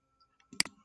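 A single key press on a computer keyboard, one sharp click standing alone in near silence, quiet and close.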